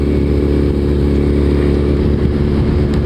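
Suzuki Hayabusa sport motorcycle cruising at about 25 mph, its engine droning steadily and loudly with a low harmonic rumble throughout, close by and with no talking.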